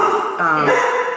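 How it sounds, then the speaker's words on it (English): A dog barks and yips close by in one short, loud outburst during an indoor podcast conversation, a sharp, strained bark that drops into a lower whine. "That's my dog."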